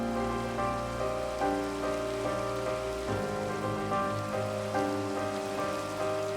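Steady rain falls on a campus with a sustained wash that runs under continuous music throughout, with no talking.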